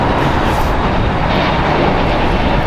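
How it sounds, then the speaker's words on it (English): A JetBlue Airbus A321 airliner roars loudly and steadily at close range at the airport, a dense broadband jet engine rumble with no talking. "JetBlue Airways, flight 1388 going to Boston. It's an Airbus A321 now."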